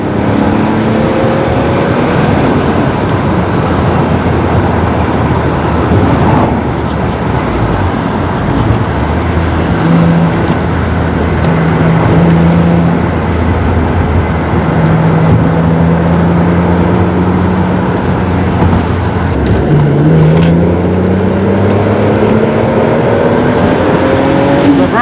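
BMW Z3 M Roadster with the S54 engine, a UK car, accelerating hard: a loud, steady engine roar with rising pitch sweeps as it pulls through the gears, close and continuous throughout.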